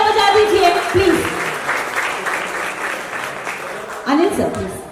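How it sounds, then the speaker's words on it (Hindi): Applause from the audience at the launch event for the Realme 14T phone rises as a dense clapping wash under a loud voice speaking over a microphone, and a second swell of voice and clapping comes near the end. "जोरदार तालियां बजा दीजिए"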